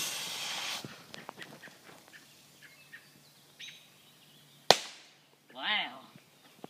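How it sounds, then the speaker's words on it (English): A single firecracker bangs once with a sharp loud crack partway through, set off outdoors amid faint background noise and distant bird chirps, followed by a short voice. "Firecracker!"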